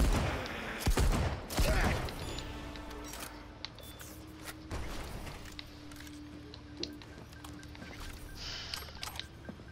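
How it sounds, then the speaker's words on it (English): Shotgun blasts in Cyberpunk 2077, two heavy booming shots in quick succession early on followed by a third sharp blast, each with a lingering rumbling tail under faint in-game ambience and small clicks. "How powerful is this shotgun?"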